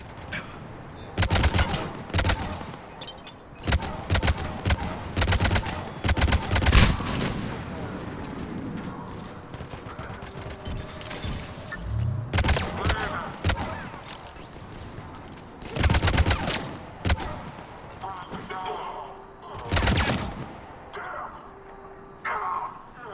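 Mass Effect 3 combat with repeated bursts of gunfire, loud volleys and rapid automatic shots coming in clusters with short pauses, and voices speaking between the bursts.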